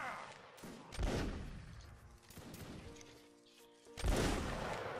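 Gunfire from the video game Mount and Blade: With Fire & Sword, with a loud report near the start and another sharp blast about four seconds in, amid game noise and a speaking voice.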